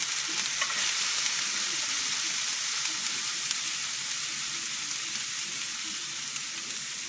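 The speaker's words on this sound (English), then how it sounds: "I'm going to toss in my onions" Chopped onions hit hot oil with ginger and garlic in a pan on high heat for a pork stir fry, giving a loud, even, unbroken sizzle close by with faint scraping and no voices.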